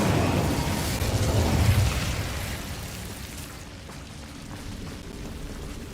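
An Incendio fire spell bursts in Hogwarts Legacy, a roaring whoosh of flame with crackling rumble that swells, then fades into a softer steady hiss.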